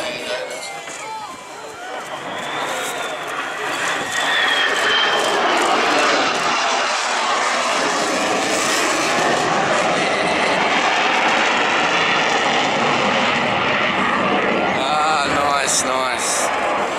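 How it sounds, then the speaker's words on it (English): An F-35 jet fighter roars overhead at an air show, its broad thundering rush swelling within a few seconds and staying loud, with faint crowd noise beneath. "we will be having the F-35. So just to remind you that that aircraft is extremely noisy"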